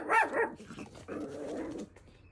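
A puppy barking, a loud close yelp and a couple of short barks at the start followed by a longer, quieter growl-like bark, with no talking.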